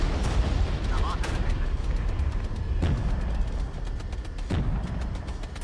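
Bombs strike M48A2 tanks in the Regiments strategy video game, a few booming impacts standing out over continuous battle noise, with talk over it.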